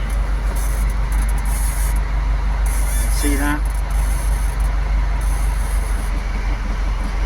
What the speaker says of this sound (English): You can hear the engine wants to go, but it's not even stalling.